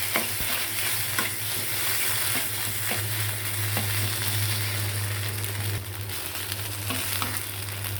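Kharkol leaf stems frying in oil in a pan, a loud continuous sizzle with scraping stirring strokes throughout, no talking.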